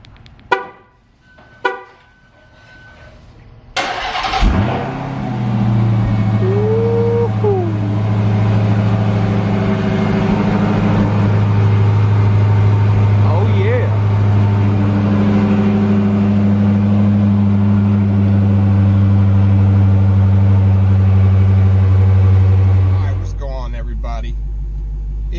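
A Dodge Hellcat cold-starts with a sharp crank and bark, then settles into a loud, steady, deep rumbling idle with a few throttle blips, preceded by faint clicks and ending abruptly.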